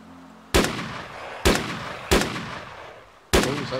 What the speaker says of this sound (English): Oh, is that you shooting?